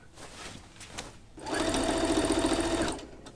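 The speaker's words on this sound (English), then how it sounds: "I'm just going to top stitch this down all the way around" A sewing machine top stitching the hem of a skirt made from a curtain runs in a fast, even burst for about a second and a half, close and loud, after some quiet handling noise.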